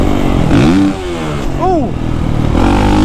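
Kawasaki KX450SR dirt bike, a 2023 model, revving hard under acceleration, its engine note rising in pitched sweeps up close while a rider exclaims over it.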